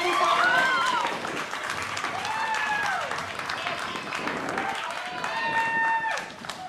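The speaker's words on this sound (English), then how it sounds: "give a big round of applause for Charlie Dark!" Crowd applause and cheering for a poet, Charlie Dark, at a poetry slam in Otara, a loud sustained clapping wash with whoops and shouted voices riding over it throughout.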